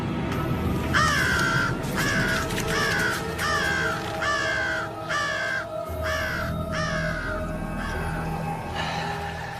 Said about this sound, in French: On ferait mieux de chasser le corbeau.